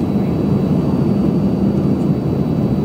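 Steady, loud airliner engine roar fills the cabin throughout, a constant low rumble with broadband hiss and no breaks, heard from inside a plane in flight between Philadelphia and Harrisburg.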